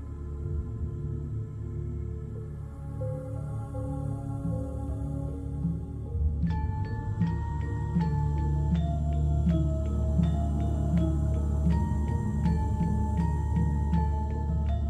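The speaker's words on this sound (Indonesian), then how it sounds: "Bunyi musik tradisional kayak pertunjukan apa gitu." Traditional Indonesian village music, like a distant folk performance, plays steadily with layered tonal instruments and bright metallic percussive accents entering midway, continuous and eerie in a horror-story setting.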